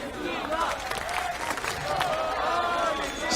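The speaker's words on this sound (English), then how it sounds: "The chants continue" An esports arena crowd at the CS:GO World Championship 2016 chanting for Argentina, a steady roar of voices with scattered claps and cheers throughout.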